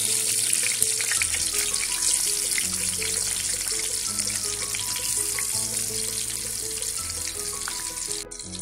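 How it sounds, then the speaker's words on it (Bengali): Brinjal pieces fry in oil in a pan with a steady, bright sizzling crackle that stays loud and continuous throughout, with a faint low tonal hum beneath. "এখানে আমি বেগুন ভাজার জন্য একটি প্যান বসিয়ে পরিমাণ মতো তেল দিয়ে নিয়েছি।"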